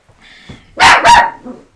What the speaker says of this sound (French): Tu vas pas aboyer tout le temps!